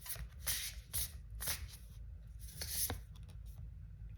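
A deck of tarot cards is shuffled in repeated quick riffling bursts, close and crisp, about half a second apart, with no talking.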